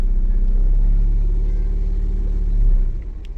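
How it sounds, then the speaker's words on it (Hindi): A car engine runs steadily at raised RPM during transmission calibration, a loud, continuous low rumble with a slight surge near the end before it eases off. "तो अब ये गाड़ी की RPM हाई हो गई है"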